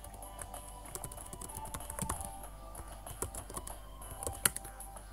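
Keys clatter on a computer keyboard in steady, uneven bursts, typing while a ZoomIt screen demonstration runs; moderately close and fairly quiet, with no voices.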